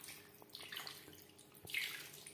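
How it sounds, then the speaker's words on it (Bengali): Spice-rinse water is poured into marinated chicken and potato curry in a pot, a soft close splashing and trickling with a brighter gush near the end, quiet and without talk. "এবার আমি অ্যাড করলাম মশলা ধোয়া জল।"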